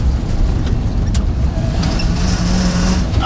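An old Chevy K20 truck's small block V8 engine runs loud and close, a rough steady rumble throughout with no voices.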